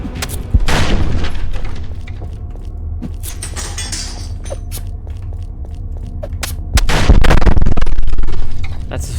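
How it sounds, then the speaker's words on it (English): In a video game, explosions and gunfire go off as a dense, loud barrage of booms and sharp cracks, with a heavy, sustained blast building near the end. "That's so many explosions."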